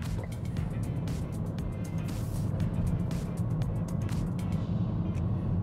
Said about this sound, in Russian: прям чувствуешь, как машина начинает движение.